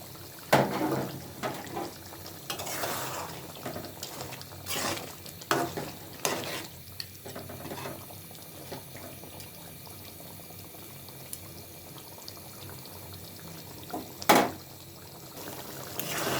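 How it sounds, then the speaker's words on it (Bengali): Water going into a pot of frying bird meat curry, a low sizzle broken by several loud stirring clanks and splashy pouring bursts, ending with a sharp clatter. "মাংসটা আমার কষানো হয়ে গেছে এখন আমি পানি দিয়ে দিচ্ছি"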